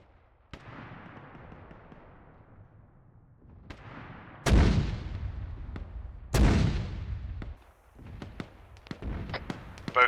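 Marker mortar rounds firing in Arma 3: several sharp booming reports, two especially loud blasts, each followed by a rumbling, crackling decay, with scattered distant pops and cracks between them.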